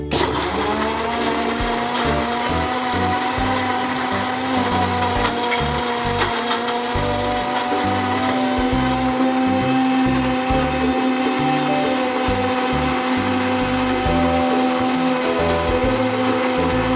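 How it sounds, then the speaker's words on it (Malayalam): An electric mixer grinder blends an avocado shake made with milk, whirring loudly and steadily the whole time with a churning, rumbling motor tone and no talking. "മിക്സിയിലോട്ടൊന്ന് വെച്ചൊന്ന് അടിക്കാം."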